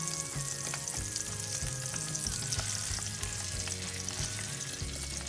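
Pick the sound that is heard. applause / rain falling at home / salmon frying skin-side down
salmon frying skin-side down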